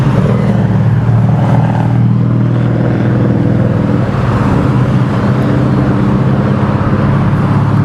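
A classic car such as a Monza, Spider or Corvette, running a little rough, rumbles past close by, its engine droning steadily and loudly throughout with no talk.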